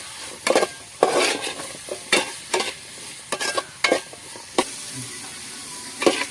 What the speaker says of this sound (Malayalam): നമുക്കപ്പം സവാള നന്നായിട്ട് വഴച്ചെടുക്കാം.